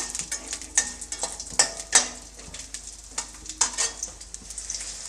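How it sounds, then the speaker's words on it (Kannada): Okra frying in hot oil, giving a crackling sizzle that carries bright spatters and occasional clinks of a utensil against the pan. "ಬೆಂಡೆಕಾಯಿನೂ ಸಹ ಎಣ್ಣೆಯಲ್ಲಿ ಹಾಕ್ತಾಯಿದ್ದೀನಿ ಎಣ್ಣೆಲಿ ಹಾಕ್ಬಿಟ್ಟು ಇದನ್ನು ಚೆನ್ನಾಗಿ ಫ್ರೈ ಮಾಡ್ಕೋಬೇಕು"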